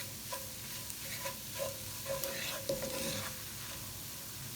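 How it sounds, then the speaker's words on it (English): Flour cooking in a skillet with sausage fat for a gravy roux, a soft steady sizzle with occasional scraping and stirring sounds, close and fairly quiet. "I'm gonna let this flour kind of cook out a little bit."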